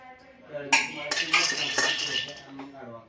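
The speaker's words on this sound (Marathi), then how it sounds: "तर शेंगदाणे आपल्याला छान असे भाजून घ्यायचे आहेत।" Peanuts are dry-roasted in a pan for sabudana khichdi. Bright metallic clinks and rattles of the nuts being stirred come close up, with a voice talking over them.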